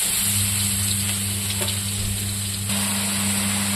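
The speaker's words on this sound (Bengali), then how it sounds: "এই যে ভাজা রাখা তিতা করলা, এটা দিয়ে দেব। এটা এখন মশলার সাথে একটু ভাজা ভাজা করবো" Bitter gourd, already fried, sizzles steadily in hot oil with spices in a pan: a continuous, close frying hiss with no talk.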